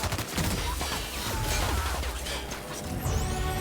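Gunfire exchange in The Outer Worlds with a sniper and two enemies, a dense clatter of shots and impacts over game background noise, fairly loud and continuous.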